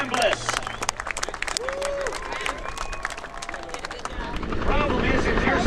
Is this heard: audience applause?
yes